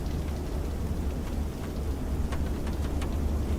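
Rain in Microsoft Flight Simulator 2024 during a flight near Klamath Falls, a steady dense hiss of rainfall on the aircraft with scattered sharper drop ticks, constant and moderately loud with no talking.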